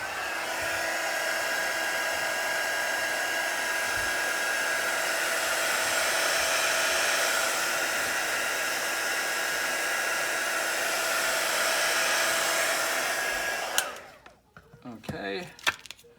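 Heat gun blowing on an iPhone 7 with a cracked screen during repair: a loud, steady rushing whir close by that cuts off near the end, leaving brief handling noises.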